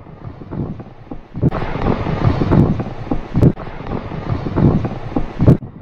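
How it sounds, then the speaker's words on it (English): Gusty wind blows hard against the microphone outdoors, rising and falling in rough bursts with sharp buffeting peaks. "It's a little windy."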